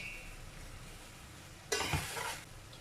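Courgettes and carrots tumble into a pot of green lentils, making a sudden splashy sizzle and stirring rustle that fades after about a second against a quiet background.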